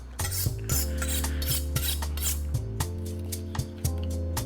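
A knife carves a thin cooked steak on a board in a kitchen, giving repeated scraping and rasping strokes with light knocks, close and steady, with no talking.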